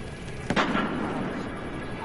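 An incendiary grenade thrown in a video game lands with a sharp burst, followed by a sustained crackling, roaring flare that lingers over a steady noisy background.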